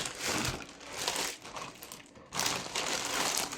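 A plastic cargo bag holding Temu car accessories is torn open by hand, giving close, crisp crinkling and ripping bursts with a brief pause midway before more crackling.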